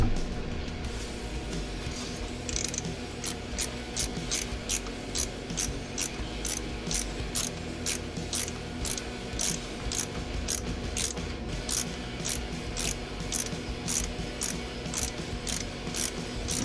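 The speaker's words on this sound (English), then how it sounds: "Now I gotta do the bolt and bracket." Ratchet tightening a bolt and bracket during a vacuum hose repair on a 1999 4x4 system, rapid regular clicking strokes in close succession over a steady background hum, nearby and fairly loud.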